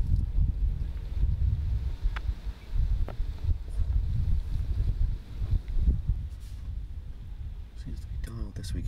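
Steady wind gusting across an open disc golf course during a June 2018 Eurotour tournament round, a continuous low roar and buffeting on the microphone running throughout, with commentators talking over it.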